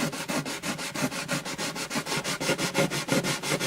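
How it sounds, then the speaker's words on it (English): An acoustic guitar bridge from an Alvarez Artist AD65 is sanded with 500 grit sandpaper: quick, rhythmic back-and-forth rasping strokes, close and loud, repeating evenly about four to five times a second with no voices. "So I've got about a 500 grit on here right now."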